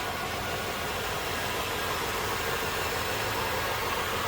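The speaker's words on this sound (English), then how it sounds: "Great running engine. Sounds good." A 1995 Cadillac Fleetwood Brougham's LT1 V8 idles with a steady, even rumble and a broad hiss, close and unchanging throughout, with no talking.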